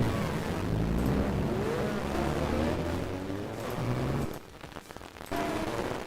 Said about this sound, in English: There's some weird sound glitch with these cars that like when you get a group of them, it just glitches out.